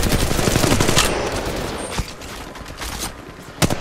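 Rapid automatic gunfire from the Apex Legends Mobile video game, loud, dense bursts of shots crackling continuously with a few sharper cracks near the end.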